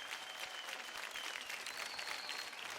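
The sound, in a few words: applause for contestants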